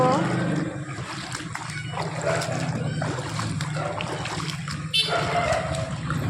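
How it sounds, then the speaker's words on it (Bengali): Feet wade through standing water, giving repeated sloshing splashes close by over a noisy outdoor background with voices of people talking. "এখন আমাদের এই জলের মধ্যে দিয়ে যেতে হবে"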